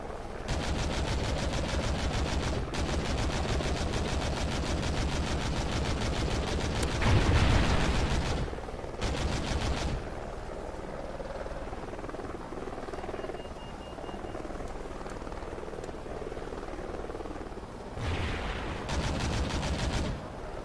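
A helicopter's rotor thump runs continuously through a video game battle, with bursts of rapid gunfire cutting in and dropping out, fairly loud and with no talk.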